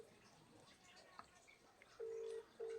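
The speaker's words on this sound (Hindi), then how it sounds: "एक बार सांसद महोदय को फोन करते हैं" A telephone call is placed and gives two short, steady electronic tone bursts about half a second apart. They sound faint and clean over quiet background noise.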